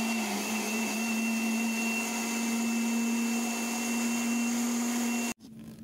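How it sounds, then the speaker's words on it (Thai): A kitchen blender purees mulberries with a little water, giving a loud, steady whirring whine up close that stops abruptly near the end. "จะนำมัลเบอรี่มาปั่นนะครับ เราใส่มัลเบอรี่แล้วเราก็ใส่น้ำเข้าไปนิดนึงนะครับเพื่อจะได้ให้ปั่นได้เราปั่นจนเขาละเอียดเลยนะครับ"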